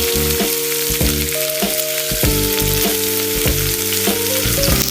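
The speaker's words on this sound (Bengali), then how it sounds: "পাকোড়াগুলোকে ভেজে নিতে হবে।" Cabbage pakoras deep-frying in hot oil, a loud, close, constant bubbling sizzle with tonal ringing from the pan running underneath, no speech.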